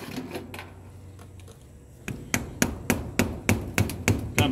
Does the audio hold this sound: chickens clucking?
no